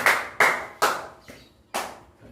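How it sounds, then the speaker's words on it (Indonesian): A few slow, separate hand claps ring out in a classroom, each sharp and close with a short room echo, spaced roughly half a second apart. "Tepuk tangan dulu untuk kita semua."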